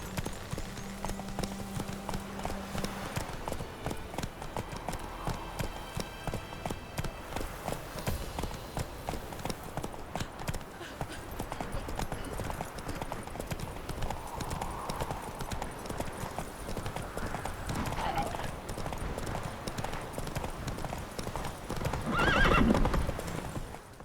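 Roach the horse in The Witcher 3, with steady rhythmic hoofbeats of a gallop running throughout and a whinnying neigh near the end, plus light game ambience and brief voices in places.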